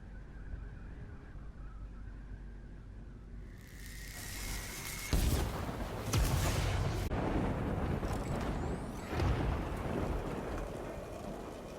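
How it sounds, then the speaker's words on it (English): Heavy rain pours down in a dense hiss in the video game Death Stranding, with low rumbles of thunder rolling through as the downpour swells and intensifies. "And then he makes it rain."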